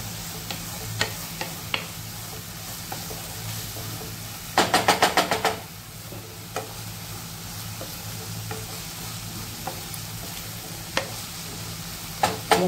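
Ginger garlic paste fries in a pan for an egg ghotala, giving a low, steady sizzle with light ticks and a brief burst of rapid clatter partway through.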